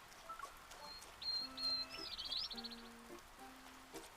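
A wet grey bird in a video game gives a few thin chirps over soft rain-like ambience, with short low tonal game sounds in between.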